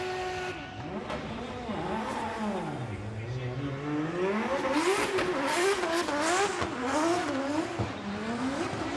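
A Lexus IS 500 F Sport Performance drift car at a Formula Drift Japan 2024 event, its engine revving hard in rising and falling surges, with tyre squeal mixed into the loud, sustained run.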